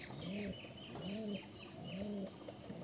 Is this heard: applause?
no